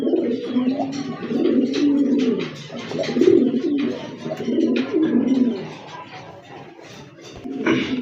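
A pair of big-sized pigeons offered for sale coo repeatedly at close range in deep, rolling phrases that pulse and pause over several seconds, with faint rustling behind them.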